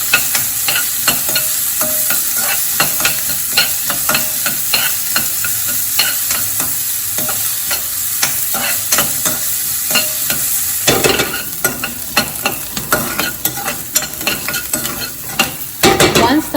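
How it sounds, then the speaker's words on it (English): Chopped onion sizzling in hot oil in a pan while a utensil stirs it, a continuous close frying hiss broken by frequent scraping and clinking strokes. "I will lightly cook the onion too."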